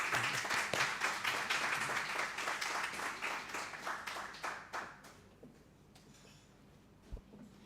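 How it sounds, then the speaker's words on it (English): Audience applause at an evening talk on LGBTQI rights, steady dense clapping that thins out and fades over several seconds, moderately distant. "So big round of applause, please, for Professor Vijit Mantaporn."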